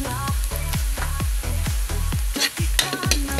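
Garlic and onion sautéing in a pan for chicken adobo, a steady loud sizzle broken by regular rhythmic stirring strokes, close and continuous with no talking.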